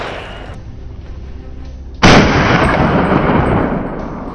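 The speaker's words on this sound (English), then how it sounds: "I pulled the trigger." A single loud, sharp rifle shot fired while hunting wild boar in a swamp, followed by a long booming rumble that slowly fades.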